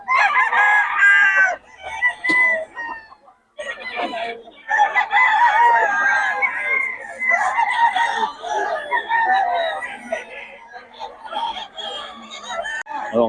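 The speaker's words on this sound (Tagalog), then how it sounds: "Mga manok ni Boss Ray." Chickens belonging to a Pangasinan breeder crowing and clucking, with several overlapping rooster crows and hen calls close by, almost continuous with a brief gap near the middle.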